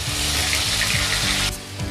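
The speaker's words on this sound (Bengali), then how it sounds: "এবার আদা পেঁয়াজটা আমি ভালো করে ভেজে নেব" Ginger and onion paste sizzles in hot oil while cooking a fish-head ghonto with ari fish: a steady, close hiss of frying that thins out near the end.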